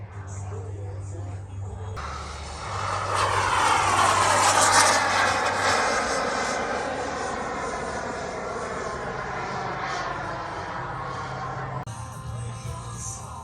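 A model jet airplane flies at the SEFF 2025 RC event, its turbine whine swelling loud as it passes close and then easing to a steady distant roar, with people talking over it.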